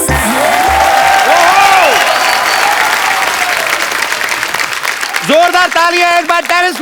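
A loud studio audience claps and cheers on The Kapil Sharma Show, a dense roar of applause with music swelling over it and rising again near the end.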